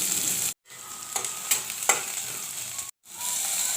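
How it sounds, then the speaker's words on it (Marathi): Cumin seeds and onion frying in hot oil, a steady close sizzle with a few soft stirring scrapes and two brief breaks in sound, no talk. "तेलामध्ये आपण जिरे टाकू खेळसायला मध्ये आपण कांदा टाकू"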